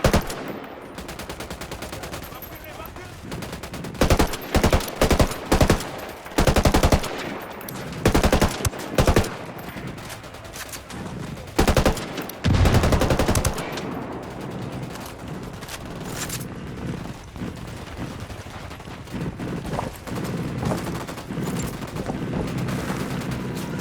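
Gunfire in the tactical shooter Ghost Recon Wildlands comes in repeated loud bursts of automatic fire and single shots over a continuous battle din, heavy in the first half and fading into steadier background noise.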